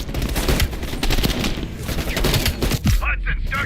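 Rapid bursts of heavy machine gun fire in the shooter game Call of Duty Black Ops Cold War, dense and continuous with booming reports, mixed with game sound effects.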